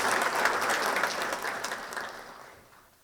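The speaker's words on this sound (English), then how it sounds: "if we could give a round of applause for those frontline healthcare professionals" An audience at a chain of survival event applauds frontline healthcare professionals, a bright burst of many hands clapping that starts full and fades away over about three seconds, with no talk over it.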